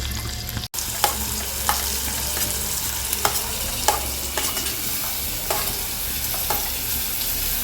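Green chillies and spices fry in a pan for a tomato and potato curry, a steady sizzle broken by regular scraping taps of a spoon stirring, close and without talk.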